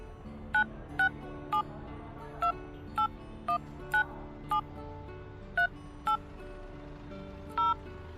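Mobile phone keypad beeping while a new number is keyed in to be saved: about a dozen short, clear dialing tones in an uneven sequence, close and alone over a faint background hum.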